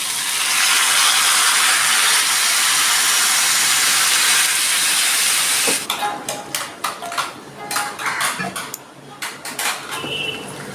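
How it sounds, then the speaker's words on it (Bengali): Water poured into a hot pan while cooking a papaya vegetable curry, a loud continuous steam hiss for several seconds that then breaks into sputtering crackles and clattering pan sounds. "আমি দিয়ে দিচ্ছি জল"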